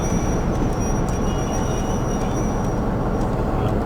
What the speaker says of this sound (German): Er hat an und für sich sehr gute Bremsen, der Zug.